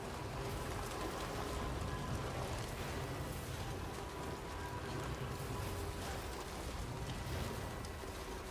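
Steady, moderately quiet rainfall in the video game Death Stranding 2, a continuous broadband hiss of drops with a low rumble underneath and no voices.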